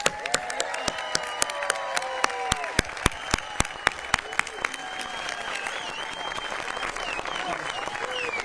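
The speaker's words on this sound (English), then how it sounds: "let's have one final round of applause for America's newest citizens" Scattered, distinct claps ring out over a murmuring crowd with voices at a naturalization ceremony at Mount Vernon, the clapping thinning as it goes on.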